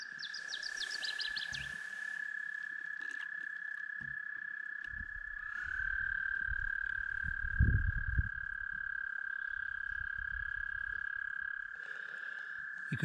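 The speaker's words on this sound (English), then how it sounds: "They're noisy little guys." Mating-season frogs at a Newfoundland lake keep up a continuous trilling chorus, with a fast chirping burst at the start and low knocks and rumbles from close by.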